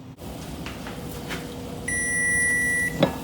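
A kitchen timer being set while cooking fideo, giving a single sustained electronic beep of about a second over a low kitchen hum, followed by a short click.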